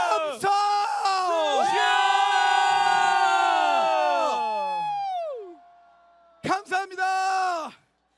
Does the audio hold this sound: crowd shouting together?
yes